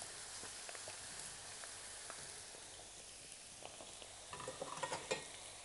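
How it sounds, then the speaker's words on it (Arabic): Potato pieces sautéing in oil in a pan, giving a steady soft sizzle with scattered crackles and a few stirring scrapes toward the end, close but quiet. "بس تشويح فقط في الزيت بيعطيها طعم لطيف جدا جدا جدا"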